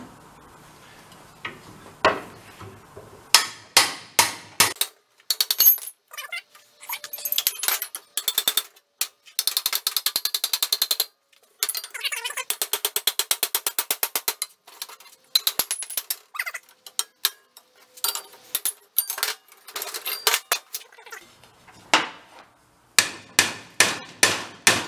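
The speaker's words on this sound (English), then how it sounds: "I'm just going to run around with a hammer, keep driving them in as far as I can" A hammer drives pickle forks into a bushing on an old Harley cart transaxle salvaged from a scrap yard, sounding as quick metallic strikes in fast rapid runs separated by short pauses, loud and close.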